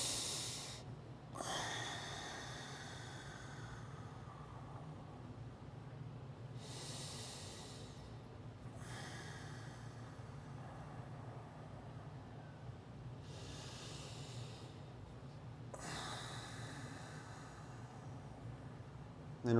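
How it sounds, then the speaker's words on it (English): Slow, deep breaths during a lower-body stretch, long hissing inhales and exhales repeating in a calm rhythm, close and quiet with nothing else in the background. "Start some inhale, exhales."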